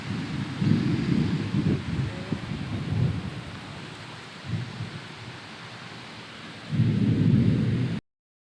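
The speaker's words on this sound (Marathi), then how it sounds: "हवा सुटलेली आहे आणि पाऊस राहिला बारीक बारीक तिरपा पाऊस आहे इकडं" Light, slanting rain hisses steadily while gusts of wind roar in low surges, swelling loudest near the start and again at the end. No voices.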